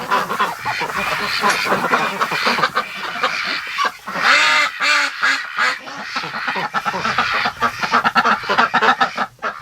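A dense chorus of Muscovy ducks quacking continuously and loudly at close range inside a shed, overlapping calls echoing in the enclosed space as they bed down for the night.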